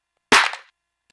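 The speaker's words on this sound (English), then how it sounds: "I need a clap." A clap sample from an MPC drum kit fires once, a single sharp, bright, close hit that decays quickly into silence.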